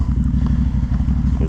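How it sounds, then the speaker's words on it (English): A stock-exhaust CFMoto CForce 100 ATV engine rumbles close and loud as a steady low pulsing drone, throbbing evenly through the whole moment without a break. "The sound of that CFMoto, hey? That's totally stock."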